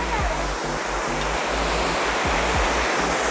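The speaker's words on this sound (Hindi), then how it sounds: "तो स्मॉल वाटरफॉल, बिग वाटरफॉल" Waterfall on the Kedarnath trek in Uttarakhand: a steady, full roar of cascading water, fairly loud and continuous, with faint low thumps of movement beneath it.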